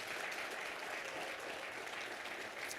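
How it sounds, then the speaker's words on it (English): Audience applause at a leadership dialogue event, a steady wash of distant clapping heard at low level throughout. "just give yourself a warm round of applause."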